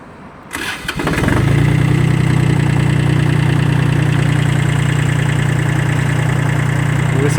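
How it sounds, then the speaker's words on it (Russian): A Kubota L18 tractor engine cranks briefly, catches, and settles into a steady, loud, even diesel idle that runs on unchanged to the end. "Давайте же запустим трактор и послушаем, как работает двигатель."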